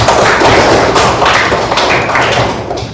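Applause from a classroom audience during an Islamic studies lesson, a dense, loud patter of many hands clapping steadily for about three seconds before tapering slightly at the end.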